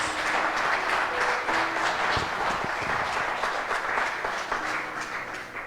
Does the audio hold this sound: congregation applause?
yes